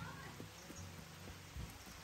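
Steady rain falls, a soft, even hiss that carries through the whole short stretch, with faint low knocks underneath.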